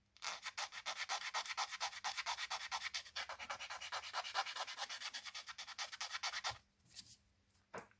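Rapid back-and-forth rubbing of a cushioned sanding pad against a scale model makes a rhythmic, close scratchy hiss, steady strokes for about six seconds before stopping.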